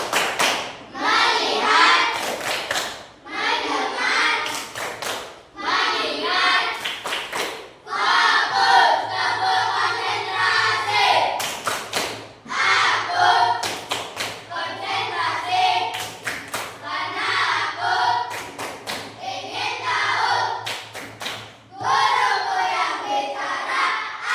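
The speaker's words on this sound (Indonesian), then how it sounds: "Tepuk tangan dulu." A class of students claps hands in rhythmic bursts during a 'tepuk fokus' clap game in a classroom, loud patterned clapping with group shouts, repeated in rounds across the clip.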